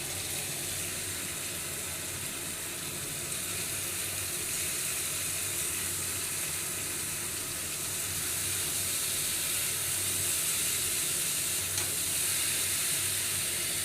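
Banana flower (mocha) being added to a pan of sizzling Bengali spice paste that has released its oil, then stirred; a steady, dense hiss of frying oil runs throughout at close range, with no talking.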